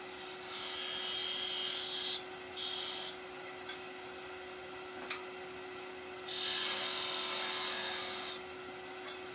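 A woodturning lathe runs with a steady hum while a scraping tool works around the spinning wood, with bursts of brighter scraping a few times; no talk.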